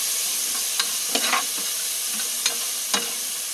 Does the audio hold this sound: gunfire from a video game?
no